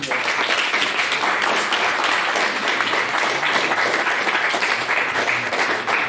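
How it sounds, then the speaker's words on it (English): A room of listeners gives a round of applause, dense continuous clapping at a loud, even level from start to finish with no talk over it. "So we'll give them a round of applause."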